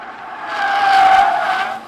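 A Skoda Superb with all-wheel drive taken fast through a corner on a mountain asphalt road, a loud sustained rush of engine and tire noise swelling to a peak mid-turn and easing off, with a brief tire whine.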